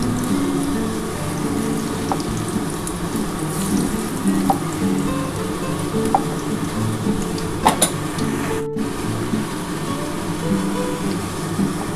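Banana flower (mocha) croquettes frying in hot oil give a steady, loud sizzle throughout, with a few sharp clicks and a brief clatter partway through.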